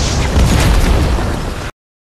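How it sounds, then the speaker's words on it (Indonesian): An observatory blows up in a film as a loud, close explosion with a sustained roaring blast that cuts off abruptly into silence. "meminta mereka meledakkan observatorium untuk melenyapkan bukti-bukti"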